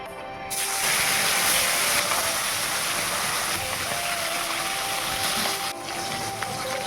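Fish hits very hot mustard oil in a pan, and a loud, continuous spattering sizzle rises sharply after a brief quiet start, then holds steady with a short dip near the end.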